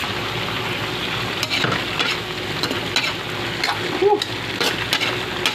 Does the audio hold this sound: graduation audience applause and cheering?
no